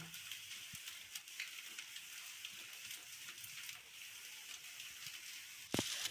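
Chow chow noodles seasoned with Maggi masala and garam masala sizzle faintly in a pan while being stirred, with soft scraping and one sharper clank near the end.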